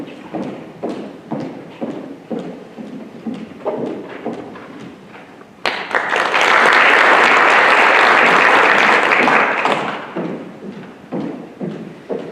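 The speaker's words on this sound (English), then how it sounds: "Let's give all of our inductees again another round of applause." Audience applause bursts out loud and sustained for about four seconds at a National Honor Society induction ceremony, between stretches of lighter, scattered clapping.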